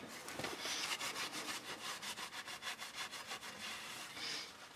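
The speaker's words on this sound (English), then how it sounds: "And we'll go around and wipe it down once more." A rag wiping around the transmission pan flange of a 2018 Chevrolet Colorado, a close, quiet, rhythmic rubbing and scrubbing in quick repeated strokes with no talk.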